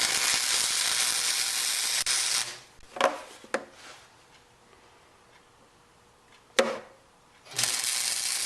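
Tack welding steel pipe onto thinner bushings, short crackling arc bursts with a steady sizzle at the start and end and brief pops between, close and fairly loud.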